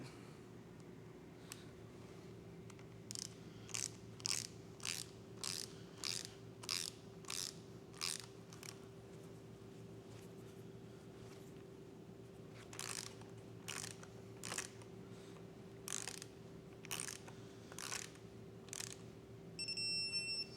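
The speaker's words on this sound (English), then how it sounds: "Use a torque wrench, 12 millimeter socket." Torque wrench with a 12 mm socket tightening bolts on a Honda engine, two runs of crisp, evenly spaced ratchet clicks close by over a steady low hum.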